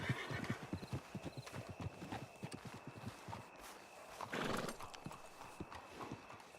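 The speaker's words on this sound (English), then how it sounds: "let's get rid of the horse for now" A horse clip-clops in the video game RedM, a steady run of close hoofbeats that slows and fades, followed by a short snort or whinny, with no speech.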